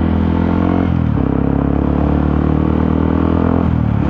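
A Yamaha WR155R motorcycle with a racing exhaust roars loud and close, engine revving up and holding, then easing as the pitch shifts, with a gritty exhaust rasp throughout.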